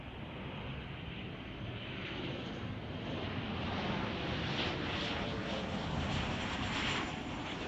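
A United airliner arriving at Chicago O'Hare from Denver, Colorado passes with a broad, rushing engine roar that swells slightly as it nears, heard without speech.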